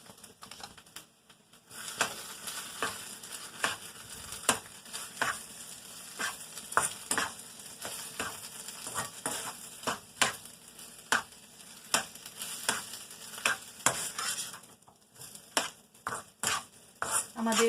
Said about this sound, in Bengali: আমরা একটা গরম মশলা গুঁড়োটা ভালোভাবে মিশিয়েই তারপরে নামিয়ে দেব।